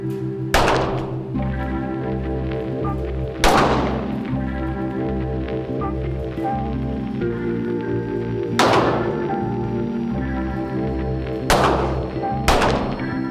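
Five sharp, booming shots at a shooting training session ring out at irregular intervals, each with a short decaying tail, over a steady tonal background.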